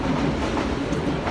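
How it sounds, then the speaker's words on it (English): A train rumbles steadily past at a distance, a continuous low clatter of rail cars with no talk over it. "That's my train in the background."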